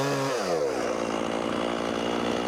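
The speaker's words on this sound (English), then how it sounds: "I don't have the saw turned up all its RPMs" A chainsaw cuts slowly and deliberately into a stubborn tree, its engine held below full RPM, a steady close droning roar with harmonics dipping as the bar bites, continuous and alone.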